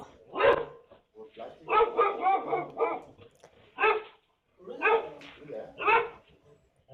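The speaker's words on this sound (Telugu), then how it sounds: "ఇప్పుడు వాడికి కుక్క అటాక్ చేసింది చూడండి అటాక్ చేస్తుంది" A dog in Visakhapatnam barks aggressively while attacking a man trying to steal a bicycle. There are several loud, close bursts of rapid barking with short gaps between them.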